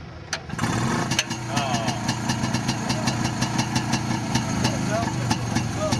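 A Yamaha Virago motorcycle at an owners' club gathering at Mallory Park cranks, catches and settles into a loud, close, lumpy idle with rhythmic pulses, while people talk nearby.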